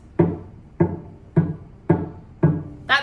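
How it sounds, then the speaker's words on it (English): A cello string played without pressing down hard enough gives five evenly spaced, short, muted plucked or bowed notes, close and moderately loud, each dying away quickly, with a brighter scratchy note at the very end. "that means you're not pressing down hard enough on the string."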